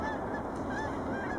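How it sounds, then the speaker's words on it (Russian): Brant geese take flight at Nisqually wildlife refuge in Washington State, a dense chorus of honking calls over steady outdoor noise, moderately distant and continuous. "Вот это казарочки наши полетели."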